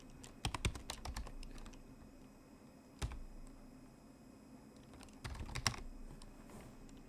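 Typing on a computer keyboard comes in quiet bursts of clicking keys, with pauses between the flurries, heard close and faint.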